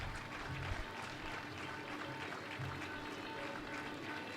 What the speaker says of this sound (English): Let the applause continue to fill the room.